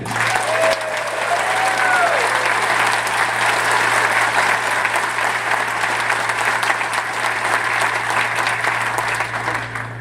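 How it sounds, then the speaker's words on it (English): Sustained audience applause at a contest club hall of fame award ceremony, loud and steady for the full stretch, with a brief whistle-like tone near the start. "give him a big applause at the end"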